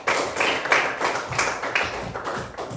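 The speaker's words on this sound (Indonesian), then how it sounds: "tepuk tangan buat Arya ya" A short burst of classroom clapping for a student, several hands tapping in quick uneven rhythm, close and fairly loud, fading slightly toward the end.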